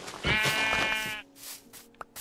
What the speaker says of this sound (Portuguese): Olha, tem uma ovelha ali, velho.